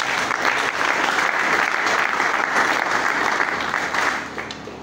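A conference hall audience applauds, dense sustained clapping from a large crowd, steady and loud for about four seconds before tapering off at the end.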